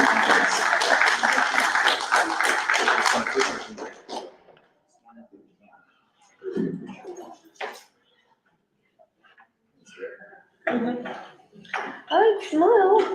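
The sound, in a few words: applause for youth panel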